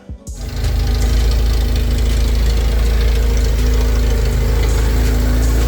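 K24-swapped MR2 Spyder on a dyno: the engine catches after a brief start and then runs loud and steady at a rough, lumpy idle, close and continuous, with no talking.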